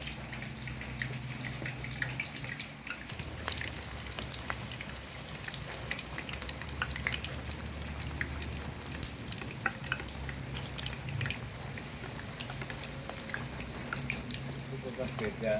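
Tempeh frying in hot oil, a dense, continuous sizzle with bursts of crackle and stirring scrapes, close and loud; a heavier rush of sizzling starts a few seconds in, with faint voices beneath.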